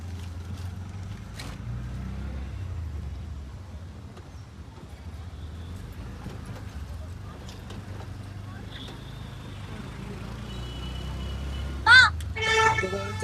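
An auto rickshaw carries riders home after a D-Mart shopping trip, its engine a steady low rumble throughout, with faint sounds of road traffic and a brief louder clatter near the end.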